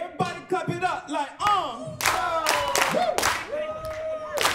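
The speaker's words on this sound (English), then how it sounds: "Everybody clap it up like," An audience claps along in a steady, rhythmic beat during a gospel ensemble performance, the sharp claps ringing out alongside sung voices and music that carry throughout.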